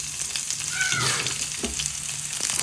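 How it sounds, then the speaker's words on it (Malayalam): Curry leaves, shallots and dried red chillies crackling in hot oil for a Kerala jackfruit erissery, a busy, fairly loud sizzle with a brief high cat-like squeal partway through. "കറിവേപ്പില, ചെറിയ ഉള്ളി, വറ്റൽമുളക് ഇട്ട് കൊടുക്കാം കേട്ടോ"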